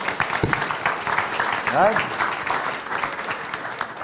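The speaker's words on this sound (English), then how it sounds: "let's give those guys a quick round of applause here" An audience at a live real estate event breaks into a quick round of applause, a dense crackle of clapping lasting about four seconds, with a voice speaking briefly over it.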